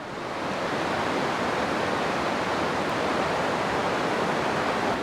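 Waterfall in Barrington Tops National Park, a dense, steady roar of falling water, loud and continuous with no pauses or voices.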